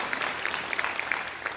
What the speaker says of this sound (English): Let's give them a hand clap